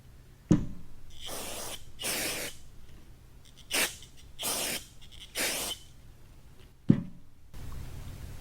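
Aerosol lubricant sprayed onto a seal of a Ford Powerstroke 6.4 high pressure fuel pump, heard as several short, close hissing bursts with sharp clicks at the start and end.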